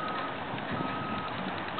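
Steady repeated reversing beeps from bulldozers backing up on a construction site, a single high tone ringing through dense, continuous machinery rumble, heard at a moderate distance.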